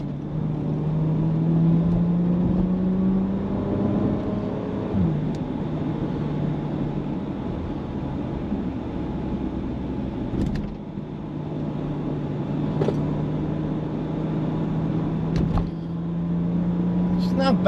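Porsche Macan S SUV driven on a twisty road, a steady engine drone with tones shifting as it accelerates and eases off, heard from inside the cabin, with a few brief clicks and light road noise.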